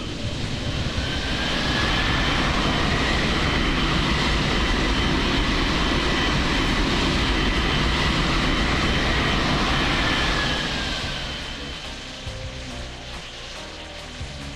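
A jet airliner lands in the World of Airports video game, its engine roar swelling to a loud, steady whine for about ten seconds before fading down, with no voices over it.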